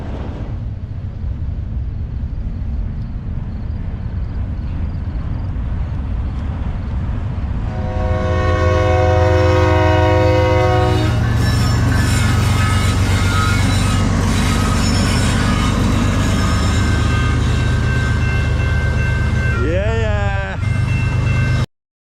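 A train rumbles steadily along the rails on the route to Vancouver, growing louder partway through, with a horn sounding several sustained blasts and a brief wheel squeal near the end.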